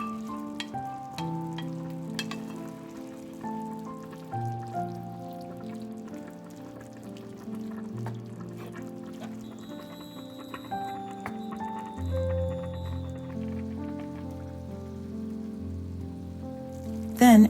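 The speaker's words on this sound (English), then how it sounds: "let it all simmer with the lid on" Mushrooms simmering under a lid in a pan, giving a soft, continuous sizzle and patter that sits beneath prominent background music throughout.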